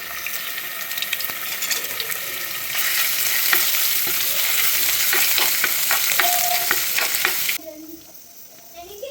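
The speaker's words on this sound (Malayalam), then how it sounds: "ഇനി കട്ട് ചെയ്തിരിക്കുന്ന സവാളയ്ക്കൊന്ന് വഴറ്റിയെടുക്കാം" Chopped onions sautéing in coconut oil in a pan for beef liver roast: a close, steady sizzle that grows louder partway through, with occasional stirring clicks, then drops abruptly to a quieter background.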